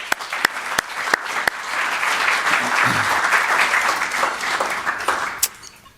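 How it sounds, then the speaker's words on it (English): An event audience breaks into applause, with a few scattered claps at first swelling into a full, dense round of clapping that fades out with a couple of late claps at the end. "So I would like to give them applause also for that."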